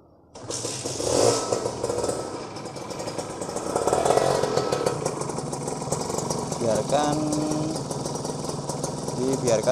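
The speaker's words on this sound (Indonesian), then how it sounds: "kita coba hidupkan mesinnya" A Kawasaki Ninja RR motorcycle engine, freshly refilled with oil after more than a year without a change, cranks and catches, then settles into a steady, rattly two-stroke idle close by.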